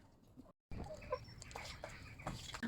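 A hen in a village coop on a small home farm, fed household food scraps, gives soft repeated clucks over low background noise, with a brief silent gap early on.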